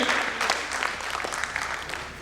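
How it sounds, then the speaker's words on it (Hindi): An audience applauds at a stage play, a dense, steady clatter of many hands clapping that fades slightly toward the end, with no speech over it. "प्रकाश परिकल्पना एवं संचालन शिक्षक चिंटू मुनि के लिए भी ताली।"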